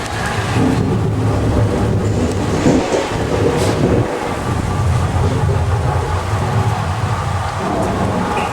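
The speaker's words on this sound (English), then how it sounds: "Hey, Freddie, can you give us some thunder and lightning?" Deep rolling thunder effect on a studio tram tour rumbles continuously with a steady rain-like hiss throughout, loud and close, with a few heavier booming swells.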